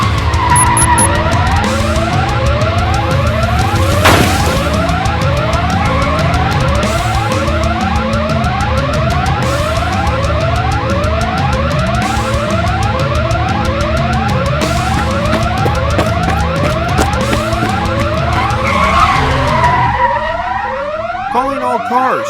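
A cartoon car drives off with a busy, loud soundtrack, a warbling alarm-like tone sweeping up and down repeatedly over rumbling engine noise, with a sharp burst early on and a fading slide near the end.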